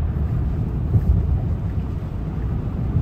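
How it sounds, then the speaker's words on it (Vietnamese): Rain pouring steadily outside during a rainy spell in California, a continuous low rumbling wash with a faint thunder-like swell, loud and unbroken for three seconds with no talk. "Ôi mà bữa nay mưa quá trời luôn các bạn."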